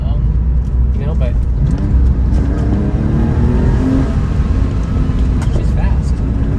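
An older Porsche 911 of the 997 generation with 145,000 miles idles with a steady, loud engine rumble, while someone talks over it throughout.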